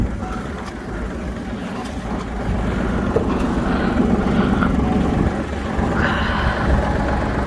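Honda TX22 Japanese mini tractor with a soil tiller attachment idling and running, a steady low engine rumble with mechanical churning, continuous and moderately close throughout.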